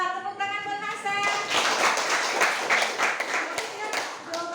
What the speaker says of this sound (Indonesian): tepuk tangan buat Hasan